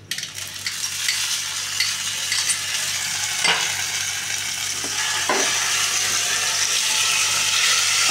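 Black cumin seeds and green chili paste frying in hot oil make a loud, dense, continuous sizzle that swells slightly over time, broken by a couple of soft utensil scrapes.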